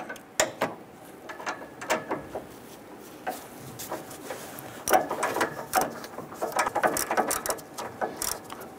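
A ratchet snugging down nuts on a 1994-2004 Ford Mustang AC condenser: quick bursts of clicking pawl strokes in short runs with brief pauses, close and moderately loud, with no talk.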